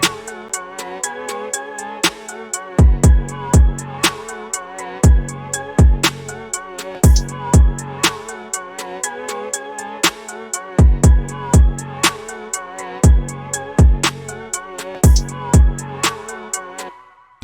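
A full trap beat in a Cakewalk session plays with only the snare backbeat, driving bass kicks and rolling hi-hats under a looping melodic layer, loud and steady throughout with no voices.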